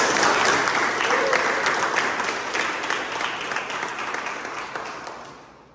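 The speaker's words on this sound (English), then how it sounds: "it deserves a bigger round of applause" A meeting audience applauds in a dense, steady round of clapping that begins loud and gradually fades out toward the end.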